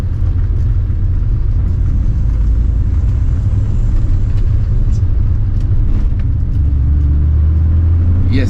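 A BMW 2002 Turbo rolls slowly downhill over speed humps on the Genting road, giving a steady, loud low engine and road rumble that holds throughout with no talk.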